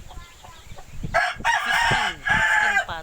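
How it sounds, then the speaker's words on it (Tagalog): Chickens on a Philippine farm, with ducks among them, crowing and clucking in repeated loud bursts, a rooster's crow standing out over softer scattered clucks and scratching. "Manok at saka mga pato."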